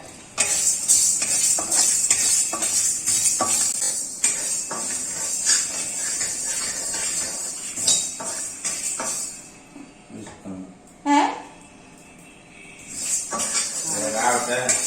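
Dried red chillies and curry leaves roasting in a pan, with steady clinking and scraping of a spoon against metal and a soft sizzle throughout, some clatter louder than the rest and a short pause near the end.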